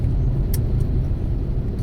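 Heavy, slow-moving road traffic on the way from Pegangsaan Dua to Bekasi Timur, with cars, trucks and motorcycles packed close together; a steady, loud, low engine rumble continues throughout, with no talking.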